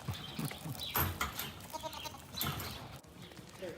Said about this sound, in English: Christmas trees are a delight for the goats at Aurora Farm in St. Norbert.